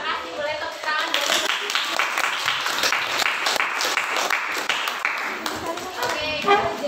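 A classroom of students applauds together, a dense patter of hand claps running steadily throughout, with children's voices mixed in beneath the clapping.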